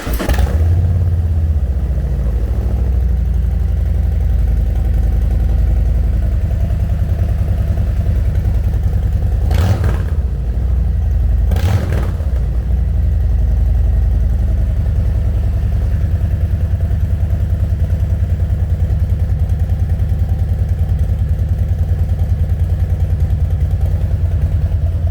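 Harley-Davidson touring motorcycle engine starting and then running steadily at a loud, close idle, with a deep continuous rumble and two brief bursts of mechanical clatter partway through.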